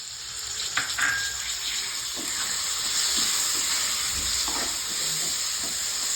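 Tomatoes hit a hot pan for Nepali gundruk curry, already seasoned with salt and cumin powder, with a steady, close sizzle and hiss of frying that keeps on throughout, plus a few faint stirring clinks.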